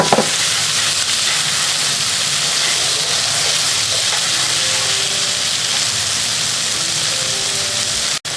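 Konnyaku stir-frying in a hot pan, a loud, steady sizzle and crackle that runs unbroken for several seconds before cutting off abruptly.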